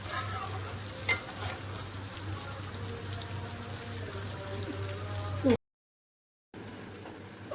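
Mustard seeds sizzle and crackle in hot oil in a pan for a curry, a steady close fry with a stirring knock, then a sudden second of silence before the sizzling resumes.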